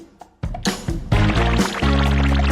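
Water pours for drinking over chip pieces, a brief pour building from quiet into a steady, loud liquid flow lasting a couple of seconds, with no talking.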